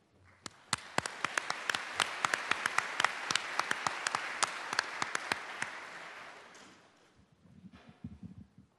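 An audience applauds as a lecturer is welcomed to the podium at a plenary session of an indoor air conference, with dense, steady clapping that holds for several seconds, thins out, and gives way to faint room shuffling.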